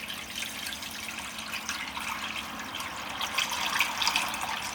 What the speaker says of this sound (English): So cover with cold water.